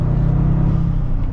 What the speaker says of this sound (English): So setting off now in the GR Corolla, in the sport mode with that really cool tachometer